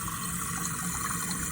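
A toilet tank refills after a Fluidmaster 400ARHRK fill valve kit is fitted, giving a steady, close hiss of rushing water that holds even throughout with no voices.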